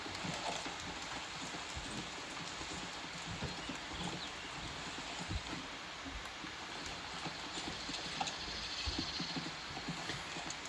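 Hooves clip-clop steadily in a video game as a horse moves along, close and moderately loud over a soft wash of rain-like background noise, with no speech.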